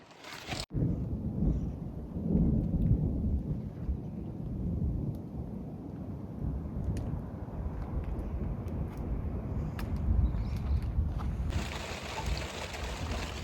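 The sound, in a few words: heavy rain pouring on a tent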